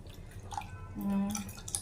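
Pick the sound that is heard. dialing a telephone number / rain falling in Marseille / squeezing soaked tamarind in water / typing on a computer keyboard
squeezing soaked tamarind in water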